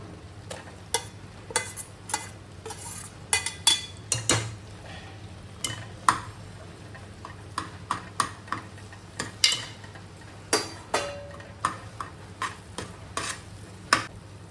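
Boiled and partly mashed chickpeas being mixed with spices in a pan for chole, a soft sizzle under frequent close clinks and scrapes of a spoon against the metal.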